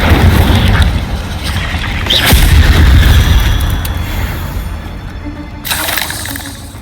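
Heavy booming fire-spell blasts in Hogwarts Legacy, with a strong thump early on and another burst near the end over a sustained low rumble, close and loud.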